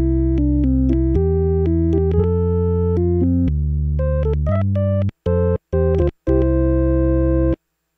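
A Hammond XK5 organ playing its Farfisa-style bass 16-foot tone with no effects, a clean sustained electronic tone moving through a short melodic line of held notes, ending with a few quick staccato stabs, loud and alone.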